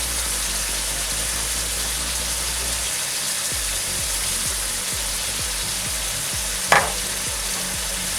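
Zirvak for plov sizzles hard in hot oil, meat with carrots, chickpeas and spices frying in a dense continuous crackle, close and loud, with one sharp knock from a utensil partway through.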